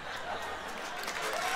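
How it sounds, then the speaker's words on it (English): A stand-up comedy audience at a Mitch Hedberg show claps in a steady, dense wash of applause that fills the whole moment without pause, with faint laughter mixed in. "You took a little long on that clap now."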